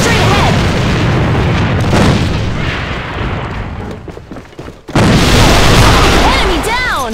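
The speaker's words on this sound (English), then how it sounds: "Grenade, straight ahead!" Loud, booming grenade blasts in the AVA first-person shooter on the Barricade map, with heavy sustained rumble, a brief dip, then another burst of explosive noise amid gunfire.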